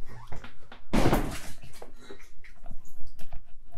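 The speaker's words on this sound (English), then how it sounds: "You just knock over a mop." A mop topples over indoors in a home bar area, giving one loud clattering knock and thud near the one-second mark, followed by faint scattered household rustles and small knocks.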